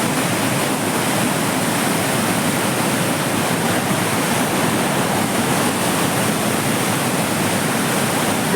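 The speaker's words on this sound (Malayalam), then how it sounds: "ഇവിടെ നിന്നും ഒഴുകുന്ന ഈ ജലം" Kallada river water pouring over a mini dam near Thenmala in Kollam, a loud, constant rushing roar that fills the whole clip without pause or voices.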